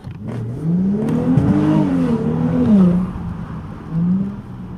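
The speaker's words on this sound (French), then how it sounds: "tu entends mieux le bruit du moteur" A car engine revs up and down with a rising and falling growl, close by and loud, easing off before a final short rev.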